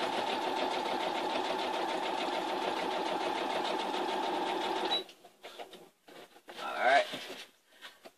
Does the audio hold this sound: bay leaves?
no